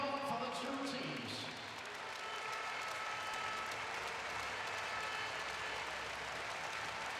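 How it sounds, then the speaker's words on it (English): Crowd applause ringing through a handball arena for the two teams after a European Championship preliminary round match between Macedonia and the Czech Republic, a dense, distant wash of clapping that swells and holds steady throughout. "Ladies and gentlemen, big applause for the two teams."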